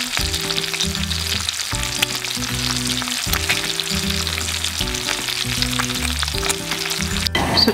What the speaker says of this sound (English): we're gonna put some oil in the bottom of our skillet and fry bacon until it's really crispy